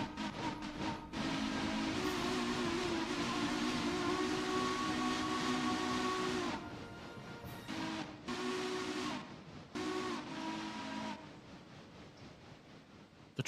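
Steam train whistle sounding in long sustained harmonic blasts, the first nearly six seconds long, then several shorter toots with brief gaps, loud and close over a rumbling rail background.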